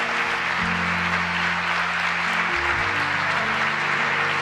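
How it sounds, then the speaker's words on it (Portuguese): A church congregation applauding in praise during a worship service: steady, dense clapping runs the whole clip with a sustained low musical tone beneath it. "Aplauda Jesus por isso."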